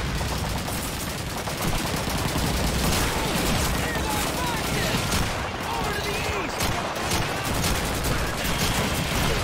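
Gunfire in Call of Duty 2 erupts as dense, continuous bursts of machine-gun and rifle shots, loud and close, overlapping in a sustained battlefield fusillade.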